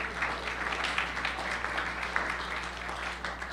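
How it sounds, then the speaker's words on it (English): Faint, distant applause from a conference audience, a soft steady patter of clapping heard from far off over a low background hum. "I've never gotten applause for that before"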